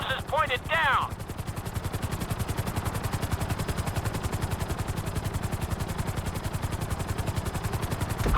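A helicopter in the GTA V video game flies at speed, its rotor thumping in a fast steady rhythm, loud and close throughout, with a brief burst of talk at the start.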